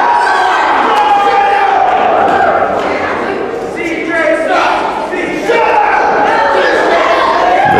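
Wrestling arena crowd cheering and jeering at a defending champion, loud and close, rising and falling in waves with shouts and a few thuds mixed in.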